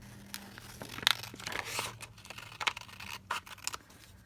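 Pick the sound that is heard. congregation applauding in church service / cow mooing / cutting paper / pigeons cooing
cutting paper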